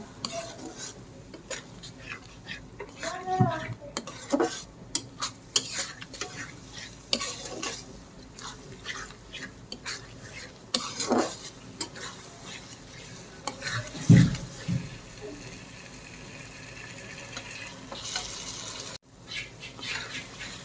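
Onions and a spice paste with coriander powder frying in a pan for a beef curry, with repeated scraping stirs, soft sizzling and occasional clinks of a utensil against the pan, close and uneven.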